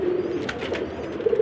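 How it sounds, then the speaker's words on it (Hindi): Pigeons of a Sialkoti breeding pair coo close by in a loft, a few soft low throaty calls in short bursts against quiet background. "ये देख लें कि ये कबूतर है, ये जोड़ा ही है"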